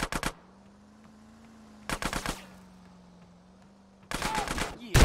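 Bursts of video game gunfire in Grand Theft Auto: three sharp volleys of rapid shots, loud and close, separated by a steady low engine-like drone, with a voice briefly at the very end.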